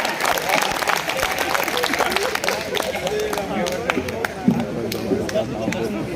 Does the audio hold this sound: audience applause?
yes